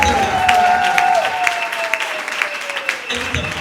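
Applause and cheering from a congregation at a church service, a continuous wash of clapping with a sustained whistle or vocal tone early on, fading slightly before the end.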